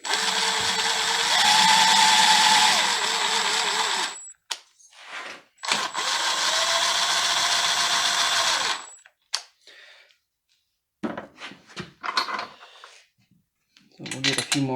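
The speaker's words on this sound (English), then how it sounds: "I'm just going to use my little impact and run these down" A small impact wrench runs down cylinder head bolts on a Briggs and Stratton opposed-twin engine in two long, loud whirring bursts, followed by scattered clinks and handling noises.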